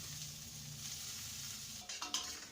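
Chopped beans sautéing on high flame in a pan while egg fried rice is cooked, giving a faint, steady sizzle, with a few brief stirring clatters near the end.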